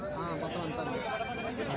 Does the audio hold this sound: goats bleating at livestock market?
yes